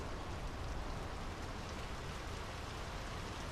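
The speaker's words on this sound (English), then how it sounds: "The rain's picking up." Steady rain falls in the video game Draugen, a dense, even hiss that stays constant throughout with no thunder or voices.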